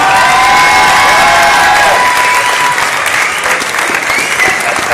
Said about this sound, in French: Écoute-moi ça, applaudissez-le!